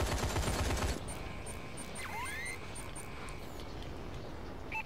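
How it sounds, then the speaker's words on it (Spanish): Burst of automatic gunfire in Call of Duty: Advanced Warfare multiplayer on PS4, loud for the first second, then fading into quieter ambient game noise with faint whooshes. "Vaya, me están disparando."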